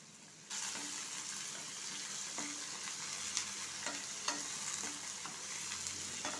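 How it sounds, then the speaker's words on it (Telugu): Sliced onions fry in a pan for onion-tomato chutney, giving a steady soft sizzle with periodic scraping taps as a spatula stirs them. "ఇలా మధ్య మధ్యలో కలుపుకుంటూ కొంచెం మెత్తబడేంత వరకు ఫ్రై చేసుకోవాలి"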